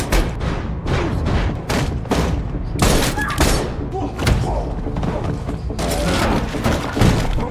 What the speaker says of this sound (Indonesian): Workman menghujani Michael dengan peluru hingga berujung pada perkelahian brutal